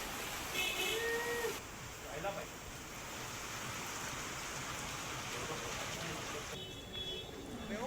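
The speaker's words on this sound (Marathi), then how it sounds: "संध्याकाळी जोरदार पावसाच्या सरी कोसळल्यात" Heavy evening rain pours down steadily in Maharashtra, a dense continuous hiss with brief bursts of talk and other tones layered over it early and late.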